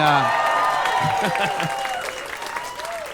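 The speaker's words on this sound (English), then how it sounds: "you can just get an applause break for saying a fact now." Audience applause mixed with some cheering at a stand-up comedy show, loud at first and easing off over about three seconds, with a voice speaking over it.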